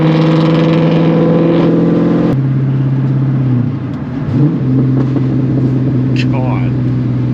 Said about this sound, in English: I ain't heard my car pop that much in a while.